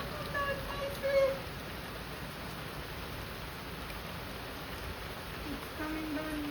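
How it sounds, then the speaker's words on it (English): Rain falling outdoors in Jamaica, a steady, even hiss of downpour close around, with faint voices mixed in. "We are actually getting some rain."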